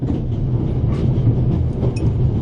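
Train running in The Raven video game, a steady low rumbling roll of railway carriages with faint rhythmic clacks and a small high squeal near the end, heard alone without talk.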